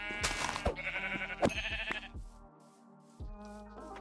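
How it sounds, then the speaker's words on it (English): Sheep in a Minecraft WitchCraft modpack bleat several times in close succession, loud and near, with game background sounds and no talking. "Oh my god, are these sheep? Yes, they're sheep."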